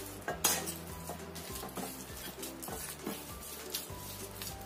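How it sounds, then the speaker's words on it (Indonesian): A spoon stirs thick snack batter in a bowl, scraping and knocking against the sides in a steady rhythm of soft thuds and clinks, close and quiet, with no talking. "Yang penting tinggal campur rata aja."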